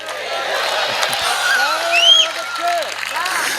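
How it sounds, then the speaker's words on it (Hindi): An audience applauds at a Hindi comic poetry recital, steady clapping throughout while a voice speaks over it. "जरा मिलके बजाओ तालियां"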